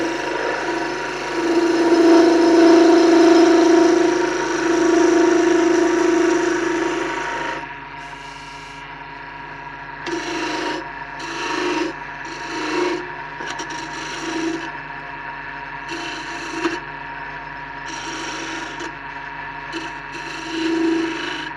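A Record Power DML250 wood lathe turns a wood piece, first a steady loud rasping cut with a motor hum, then broken into short bursts of scraping over a constant idling drone.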